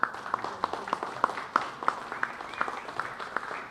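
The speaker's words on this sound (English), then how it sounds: "let's thank Ted Gunderson one more time with a round of applause" Audience at the Granada Forum claps steadily, a modest scattering of hands producing rapid, moderately loud claps that keep an even pace throughout.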